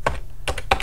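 Keystrokes on a computer keyboard while entering a date into a Microsoft Word label, three short bursts of clicking close up with brief gaps between, no talking.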